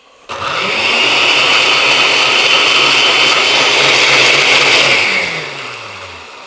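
Blender running on its high setting, a loud continuous motor roar that starts abruptly, holds steady for about four seconds, then winds down into a fading hum.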